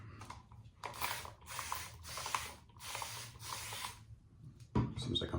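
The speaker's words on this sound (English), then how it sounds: "Seems like I'm about out of water in my spray bottle" A handheld spray bottle of water, used while preparing shaving lather, gives four quick close hissing sprays in a steady rhythm, each burst about half a second long, followed by a louder clatter at the end.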